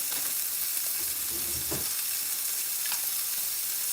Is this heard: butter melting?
yes